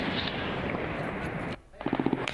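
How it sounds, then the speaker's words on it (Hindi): Rapid machine-gun fire at night on the Afghan-Pakistan border, a dense continuous rattle that breaks off briefly and then resumes in quick close bursts. "गोलियों की आवाज साफ सुनाई दे रही है।"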